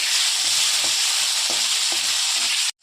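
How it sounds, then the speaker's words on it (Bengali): Tomatoes and onions sizzle loudly in a hot pan for a cauliflower curry, a steady bright hiss broken by a few soft spatula scrapes and stirs, cutting off abruptly at the end. "এখন টমেটোটা দিয়ে দেবো, টমেটোটা ভালো মতো কষিয়ে নেবো।"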